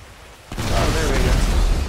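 An explosion detonates in Grand Theft Auto 5, a sudden loud onset of dense, rumbling noise that holds steady at full strength without a pause.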